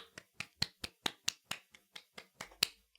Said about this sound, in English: I'm clapping for myself because I am.